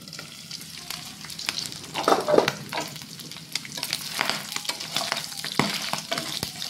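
Pork pieces for a Filipino pigado dish brown in a frying pan, giving a steady close sizzle with sharper crackling pops and bursts throughout, uninterrupted by any voices.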